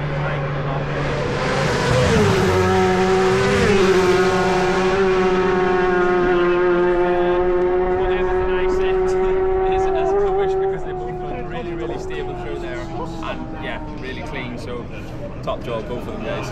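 Racing motorcycles at the Isle of Man TT, one machine's engine howling loud and near as it passes, its pitch holding then falling away, with spectators talking over it.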